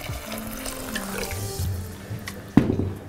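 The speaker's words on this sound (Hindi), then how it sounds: "पानी" Water poured into a pot of soaked moong dal, a steady splashing trickle with a sharper splash near the end, close and moderately loud with no talk.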